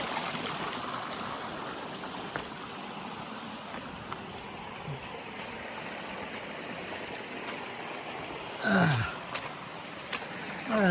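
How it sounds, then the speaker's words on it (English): A small woodland stream flows in the rain, a steady, broadband trickle and babble heard up close, with a few brief louder bumps and a short voice-like sound toward the end. "a beautiful little stream right here"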